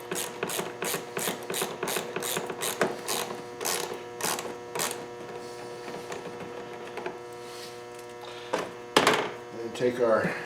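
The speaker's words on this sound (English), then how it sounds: "Snug up our little 8mm bolts on our hose clamp here." A ratchet wrench clicks in rapid bursts while snugging up small 8mm bolts on a hose clamp of a 2009 Nissan Versa 1.6, close and crisp, followed by quieter handling and clinking toward the end.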